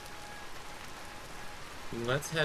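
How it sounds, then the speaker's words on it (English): Rain falling in the survival game Vintage Story, a soft steady hiss throughout, with a voice speaking over it toward the end. "it's been raining quite a bit"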